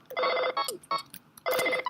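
A telephone rings in the video game Earthbound, with loud chiptune-style bursts of electronic ringing in uneven pulses, close and clear, with no voices.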